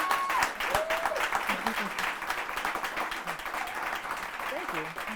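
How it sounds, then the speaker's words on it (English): Studio audience applauding to welcome a guest onto a talk show, a moderate, continuous patter of clapping with voices and cheers mixed in over it. "I ask our studio audience to give a warm round of applause and help me welcome Anna Charles."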